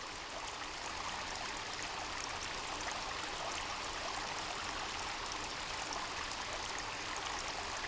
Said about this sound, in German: Das Wasser ist schon sehr laut